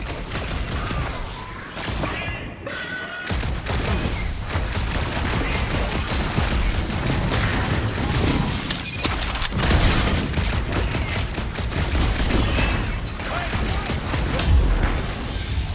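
Dense gunfire rattles almost without pause as jelly-like enemies are shot in Guardians of the Galaxy, with rapid bursts, heavy booms and crashes over a loud sci-fi battle din, broken by one brief lull near the start.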